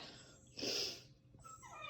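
A pit bull mix dog whines softly, a short high whimper rising in the middle of a quiet two-second stretch with faint breathing around it.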